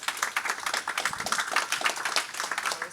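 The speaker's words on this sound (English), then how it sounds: "let's give them a round of applause" Audience applause after a funding panel at a biotech conference, a fairly faint, steady patter of clapping hands that carries on for a few seconds without voices.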